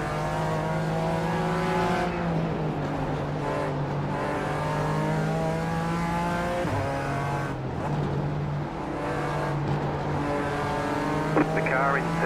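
A BMW race car driven in the iRacing simulator whines steadily at high revs, with the engine pitch rising and dropping through gear shifts while a commentator talks over it.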